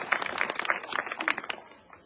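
At a village blanket-distribution event, a small crowd claps for Shivpal Singh Yadav, a scattered run of distinct, uneven claps that thins out and fades toward the end.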